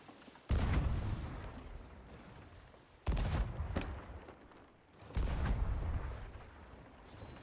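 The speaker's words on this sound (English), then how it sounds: "They're still shooting at us." Gunfire aimed at the players in a video game, three heavy booming blasts with long rumbling tails, each a few seconds apart, at moderate loudness.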